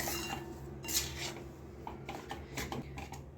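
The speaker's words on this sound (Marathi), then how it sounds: "व्यवस्थित मिक्स करून घ्यायचं आहे जोपर्यंत गूळ मेल्ट होत नाही" Jaggery being stirred into warm ragi mixture in a pan, heard as scattered soft scraping and light clinks of a spoon against the pan, quiet and close with no talk.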